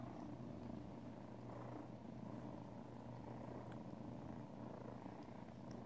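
A cat purrs in a steady, continuous low rumble, close and unbroken throughout, with no talking over it.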